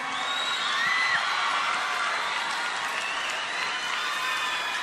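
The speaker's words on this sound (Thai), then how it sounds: "ขอเสียงปรบมือ" Audience at a Thai televised concert applauds and cheers, with scattered whoops and shouts, a steady dense wash of clapping close and loud throughout.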